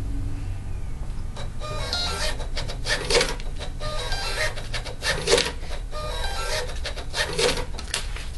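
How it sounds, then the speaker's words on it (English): A printer running off three restaurant coupons, its print head buzzing and rasping in repeated rhythmic passes, steady and moderately loud, with no voices. "now it tells me I'm printing 3 copies"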